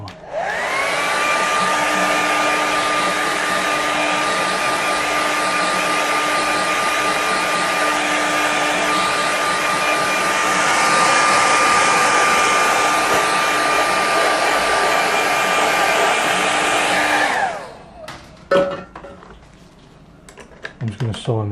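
A hair dryer blows steadily and loudly for about seventeen seconds to dry a loose watercolour seascape painting, then cuts off, leaving a few light taps and handling noises.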